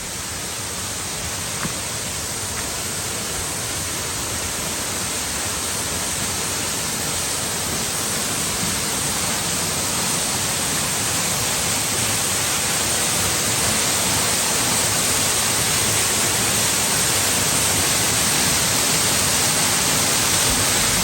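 A waterfall at Phu Pha Yon in Sakon Nakhon roars in a steady, dense wash of falling water that runs unbroken throughout, with no voices over it.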